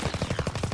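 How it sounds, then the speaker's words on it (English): A rapid burst of gunfire in Call of Duty: WWII, about seven quick, evenly spaced thumps within under a second, loud and close. "That's a shotgun!"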